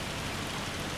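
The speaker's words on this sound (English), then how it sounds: "And well, it's hailing." Hail falls in the farming game Farming Simulator 25 as a dense, steady, hissing patter of many small impacts, continuous and fairly loud, with no other sounds and no voices over it.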